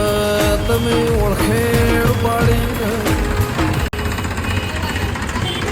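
A loud tractor engine runs steadily with a rattling, knocking chug, close by and continuous, with a brief dropout near the end.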